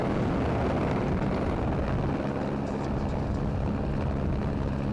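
A steady, dense roar of a helicopter rotor and engine filming a rally stage fills the whole stretch, loud and constant with no pauses.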